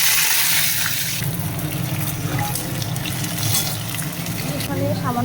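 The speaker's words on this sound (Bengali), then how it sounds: "আলুটা ভেজে নেব।" Potatoes fry in hot oil seasoned with whole cumin and bay leaf, giving a bubbling sizzle with splashy, watery texture and some clatter, while a person talks over it.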